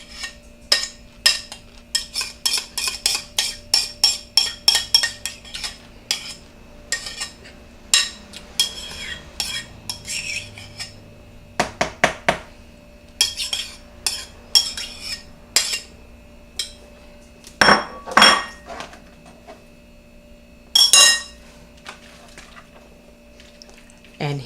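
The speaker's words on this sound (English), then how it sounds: "And then I'm going to add all the the dressing now in the bowl." Dressing is poured and stirred into a bowl of keto low-carb coleslaw, with many quick clinks and scrapes of a utensil against the bowl, coming in bursts and pauses, some louder clacks near the end, no talking.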